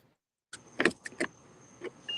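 Someone gets into a car. A few close, sharp clunks and rattles sound over about two seconds, like a door handle, keys and a seat, after a moment of silence.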